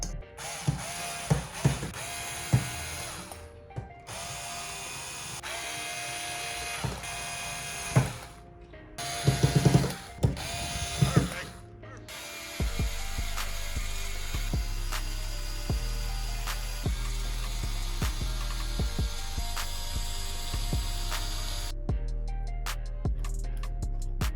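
Screws driven into the fans of a Mars Gaming ML-One 240 all-in-one cooler, with repeated ratcheting clicks of a hand screwdriver in short bursts and pauses, then a steadier stretch of mechanical turning noise close by.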